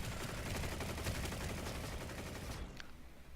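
Carbine fire in a video game rattles out as a sustained rapid burst of automatic shots, steady and dense for about two and a half seconds before cutting off, heard alone without talk.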